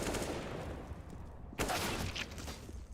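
Rapid gunfire bursts ring out during a competitive Counter-Strike match, with sustained volleys followed by a sharper, louder burst of shots partway through.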